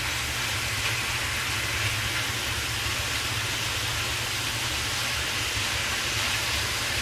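Steak teriyaki stir fry pieces sizzling as they brown in a pan, a loud, steady hiss and crackle with a low hum beneath, continuous and without talk.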